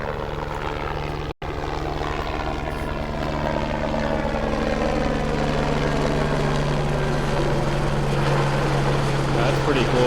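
A firefighting helicopter hauling a water bucket passes overhead near forest fires, its rotor and engine a steady droning thrum that builds gradually, loud and sustained, with a person talking over it.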